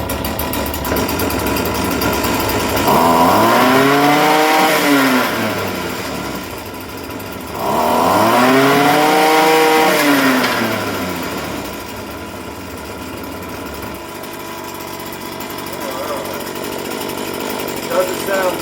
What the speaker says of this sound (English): Let's take it off choke. Let's just see if maybe they left it flooded.